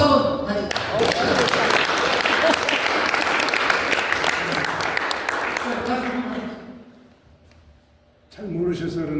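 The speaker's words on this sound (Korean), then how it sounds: "자, 박수 한번 다시." Listeners at a spring humanities lecture at a Buddhist temple break into hearty applause. The clapping is dense and full, then thins and fades away before a voice starts talking again.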